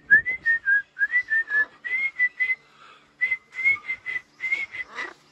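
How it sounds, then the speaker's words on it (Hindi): A person whistles a bright, repeated tune to a pet animal, with steady runs of short, clear tonal notes and one brief pause midway. The whistling is close and loud, with no talking. "जब मैं सीटी मारता हूँ ना ये डांस करने लग जाता है"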